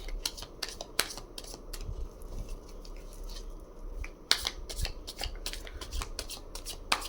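Tarot cards being shuffled, soft riffling and flicking bursts repeating irregularly at close range against a quiet room hiss, with no talking.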